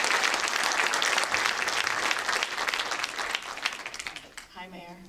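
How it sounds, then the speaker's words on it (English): A crowd at a Chagrin Valley Chamber event applauds as the mayor of South Russell walks up: dense, steady clapping that fades toward the end, where a voice begins speaking. "Let's give him a little applause as he comes up."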